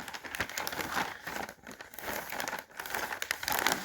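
Wrapping paper is crinkled and folded around a gift, making dense, loud, close rustling and crackling that runs continuously with two brief lulls, no speech.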